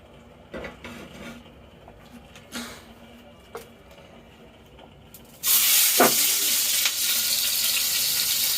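Poultry chicken pieces drop into hot oil in a kadai and start frying, a sudden loud, steady sizzle bursting in partway through after a few quiet clinks and handling sounds, continuing strongly to the end.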